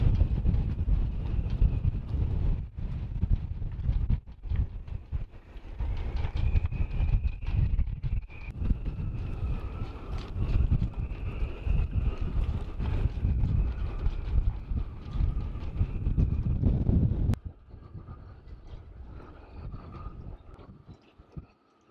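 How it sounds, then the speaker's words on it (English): Strong wind of about 30 to 35 knots roars and buffets the microphone aboard a sailboat on the Limfjord, a dense continuous rumble that drops sharply quieter near the end, with no talking. "Today is a windy day. It's about 30 to 35 knots of wind."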